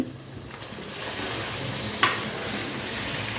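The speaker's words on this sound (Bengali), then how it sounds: "এখন আমি এর মধ্যে দিয়ে দেব আগে থেকে সেদ্ধ করে রাখা সেই চিকেন" Pre-boiled chicken fries in cooked-down spice paste, a steady close sizzle with a soft rising hiss and one brief clink of the utensil against the pan.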